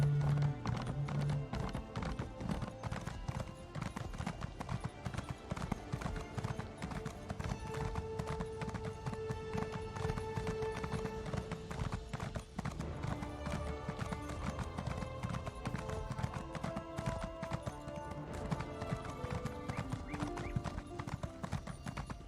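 Horse hooves clip-clop steadily through a Daggerfall-era fantasy video game scene, with an occasional whinny, alongside in-game music and ambient tones throughout.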